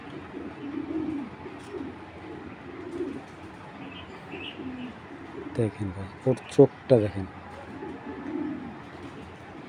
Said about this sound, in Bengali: এই কবুতরটা আমি ধরা যতটুকু ফিল পেলাম, মানে ও অনেক ফার্স্ট ক্লাস একটা পাইথন কবুতর